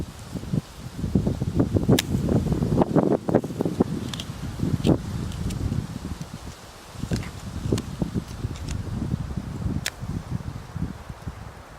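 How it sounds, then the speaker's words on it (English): Wind gusts outdoors in wet weather beside a wood fire setup, a rough, buffeting rumble that swells and fades with scattered rustles and clicks and no voices. "Just the wind just kicked up"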